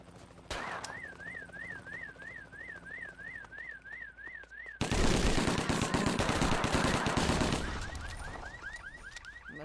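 A big gun fires in the video game 25 To Life, first in rapid, dense bursts under a warbling alarm, then a sustained, loud stretch of heavy automatic fire that gradually eases as the alarm returns.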